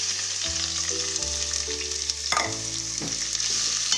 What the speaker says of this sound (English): Now we just add our onions to the ghee.